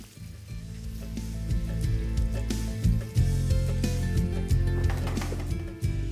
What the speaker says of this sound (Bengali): আর একটা দিক ভাজা হয়ে গেলে পাল্টে নিয়ে অপর দিকটাও কিন্তু একইভাবে ভেজে নিন